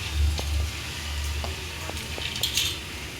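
Cashew nuts sizzle in a hot pan while ingredients for homemade ice cream are prepared; a steady, close frying hiss runs throughout, with a few light clinks of stirring.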